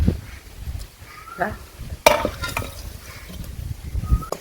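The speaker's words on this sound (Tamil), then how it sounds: "தேங்காயை நல்லா செவக்க ஈரச்சத்து இல்லாமல் வறுத்துடணும்." Sun-dried grated coconut is dry-roasted and stirred in a pan, scraped with soft sizzling, a sharp clank of utensil on metal, and faint movement.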